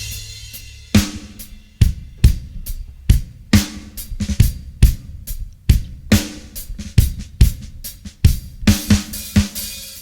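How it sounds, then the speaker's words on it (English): A classic sampled drum break used as the basis of a jungle track, with crisp kick, snare and cymbal hits in a busy, syncopated breakbeat pattern. It plays loud and dry on its own. "You can hear the original drums, they sound like this."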